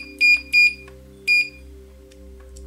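An electronic beep sounds from a lift controller as its micro switch is pressed, with three short, loud, high tones, two close together and then one after a pause, over a steady low hum.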